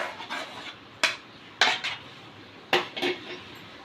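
Thick Bombay halwa is tipped from a pan onto a plate, with a few sharp metallic clanks and scrapes of utensils against cookware spaced over a quiet background.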